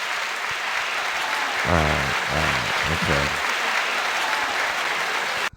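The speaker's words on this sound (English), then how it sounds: "Let's give T from DC a hand clap" Audience applause for a guest on a talk show, a steady wash of clapping throughout, with someone briefly speaking over it in the middle before it cuts off.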